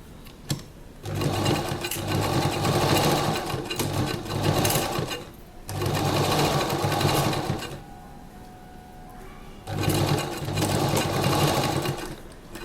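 A sewing machine stitches lace onto a colourful neck design in three loud, steady runs of dense whirring, separated by short pauses with a faint hum and clicks while the fabric is turned.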